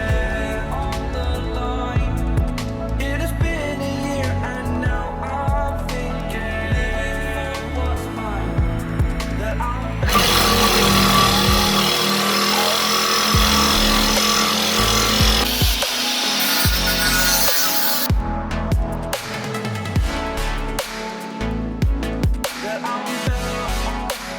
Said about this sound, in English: so we're cutting it. Got the Sawzall.